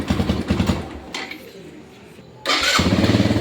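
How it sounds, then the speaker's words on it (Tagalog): Suzuki Thunder 125 motorcycle push-started: an initial engine burst, a brief lull with cranking, then the engine catches and settles into a loud, close, rhythmic idle. "ayos na yung push start, umandar na yung motor"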